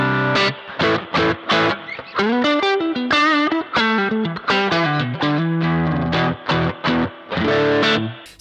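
An electric guitar played through a Boss Katana amplifier with its spring reverb effect sounds out a run of picked single notes and short phrases. Each note rings with a wet, splashy tail, clear and fairly loud with no voice.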